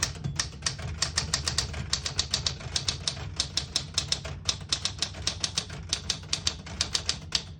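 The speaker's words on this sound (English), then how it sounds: "I'll type a sentence in red on the next line and switch from black to red." A 1968 Smith-Corona Super Sterling portable typewriter clacks steadily as a line is typed in red ribbon, with rapid, close keystrikes in an uneven rhythm and occasional heavier strikes.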